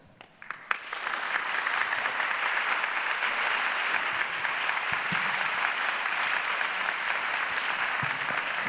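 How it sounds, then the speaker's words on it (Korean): After a few scattered claps, an audience at a poetry-and-music concert bursts into sustained, even applause to welcome the pastor-poet Baek Nam-yong to the stage, holding steady to the end. "박수 드리니까 나오죠"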